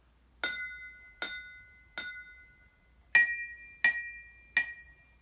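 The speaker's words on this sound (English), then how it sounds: "a lot of water in the glass means that when I strike" A glass partly filled with water is struck six times at an even pace, each tap giving a clear, bright ring that decays slowly. The later three strikes are slightly louder, and no one speaks.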